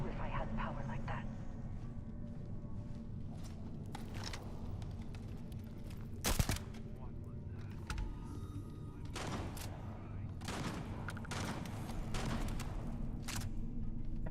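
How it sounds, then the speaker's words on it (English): Gunfire in Starfield, a steady stream of scattered shots over a constant low hum, with one louder crack about midway. Talk runs underneath throughout. "What the hell is she shooting at?"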